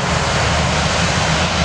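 A Jet2 airliner takes off at Manchester Airport, its engines a loud, steady, broadband roar that holds without a break, and no voices are heard.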